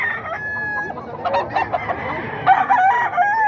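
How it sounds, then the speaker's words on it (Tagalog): Roosters crow repeatedly, with several overlapping calls and some clucking, close and loud against a busy farmyard background. "Marami ring manok si Boss Mac."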